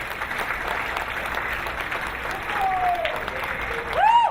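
Steady crowd applause at an event welcome, a continuous wash of clapping that swells slightly toward the end, where a rising whistle-like tone cuts through.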